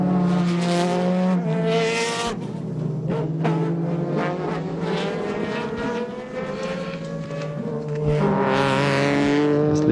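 Mid-engined, V8-powered Super GT race cars, among them a 4.2 litre Toyota, race at the SUGO circuit. Loud engine notes rise and fall through gear changes, and several cars scream past one after another with no talking.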